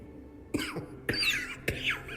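A character in Tainted Grail: Fall of Avalon lets out three harsh, separate coughs, near and fairly loud, spaced about half a second apart.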